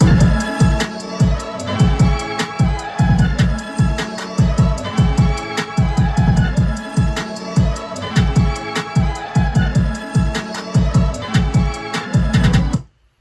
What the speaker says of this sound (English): I added this kick, and this kick is one of my favorites